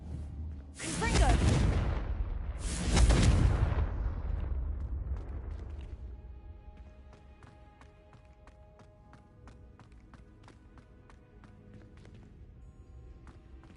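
A Confringo blasting spell in Hogwarts Legacy lets out two loud close explosive bursts in quick succession, then a decaying rumble under faint game music.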